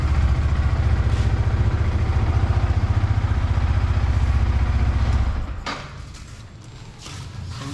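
A 2023 Yamaha R15M motorcycle engine, previously troubled by a weak battery, idles with a steady, close, rapid thumping pulse before the sound drops away sharply near the end, leaving a quieter hum.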